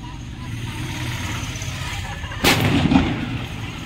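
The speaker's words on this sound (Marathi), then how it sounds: "आता लावता मित्रांनो असली फटाका सुतळी बॉम्ब लवकूबाई" A sutli bomb firecracker bursts once at mid-clip, a sharp loud blast with a brief rumbling tail, rising over steady background noise and low murmur.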